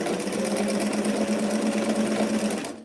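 A sewing machine stitches a T-shirt over a thick ridge of fabric, running as a fast, steady mechanical whir for nearly three seconds before stopping abruptly.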